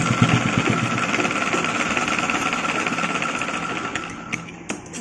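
A sewing machine runs steadily while stitching all the way around a pleated baby frock, a loud continuous mechanical rattle with no talking.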